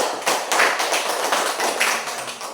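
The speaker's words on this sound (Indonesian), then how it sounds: "mari kita berikan aplaus untuk Ya" A classroom of students applauds a student group, steady dense clapping from many hands sustained throughout without talk.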